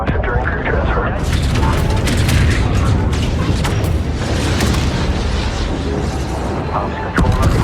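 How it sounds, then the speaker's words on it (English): Explosions in the space combat video game Homeworld 3 form dense, muffled booms and rumbling blasts that carry on without a break, with a voice speaking over them. "Some sound effects like explosions seem to be more muffled this round."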